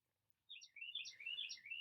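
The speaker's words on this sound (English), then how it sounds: "I hear that bird agrees with me." A small bird chirps outdoors in a quick run of high, bright tweets after a short quiet start, fairly faint and repeating in rapid bursts.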